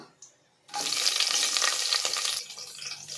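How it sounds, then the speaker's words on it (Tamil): Green chillies dropped into hot oil after whole spices such as star anise, bay leaf and cinnamon burst into a loud, close sizzle after a quiet start, then ease off toward the end. "அதுக்கப்புறம் பச்சை மிளகா"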